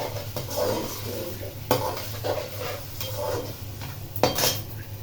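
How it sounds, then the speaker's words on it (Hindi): Chopped cabbage, carrot, capsicum and green onion go into a hot pan for Thai fried rice with egg and chicken, with light sizzling, a steady hum and a few clanks of a utensil against the pan. "अब इनमें ये जो सब्जियां काटी थी बंद गोभी गाजर और शिमला मिर्च और हरे प्याज ये डाल दिए।"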